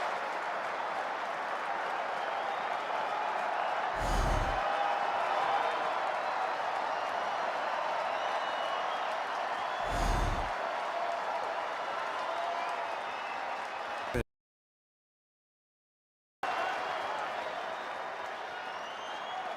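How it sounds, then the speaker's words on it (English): A home baseball crowd at a Dodgers–Rockies game roars and applauds in a steady, loud wash as fans rise with their team a strike away, with occasional sharper claps and a brief dropout near the end. "Home crowd to its feet."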